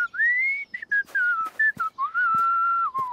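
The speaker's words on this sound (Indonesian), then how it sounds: "Kamu bertiga buat bunyi bersiul yang menarik dengan kotak jus kamu." A clear, sustained whistling tone made by blowing across juice boxes in a children's cartoon, sliding and wavering in pitch, broken into several phrases, close and loud, with no talking.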